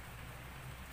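Steady, dense hiss of rain falling, fairly quiet and continuous with no voices.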